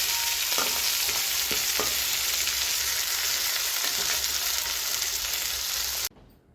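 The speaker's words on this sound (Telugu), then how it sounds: "ఇది లైట్గా ఫ్రై చేసుకోండి." Curry leaves, coriander, mint and green chillies lightly frying for a Telangana-style korameenu fish fry, a loud continuous sizzle with stirring clicks, cutting off abruptly near the end.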